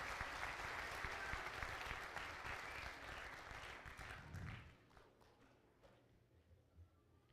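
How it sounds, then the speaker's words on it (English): Graduation audience applauding instructors and faculty, a dense clapping crowd that thins and fades out over the last few seconds, leaving sparse scattered claps. "Let's give your instructors and your faculty a round of applause as well"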